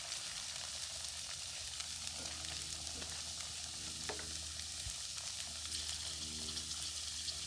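Cracklins fry in hot grease with a continuous, soft crackling sizzle and occasional small pops, steady and unbroken throughout.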